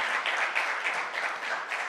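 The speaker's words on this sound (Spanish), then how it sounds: "Dele un fuerte aplauso al Señor." A church congregation gives a steady burst of applause during an evening service, dense and even throughout without a break.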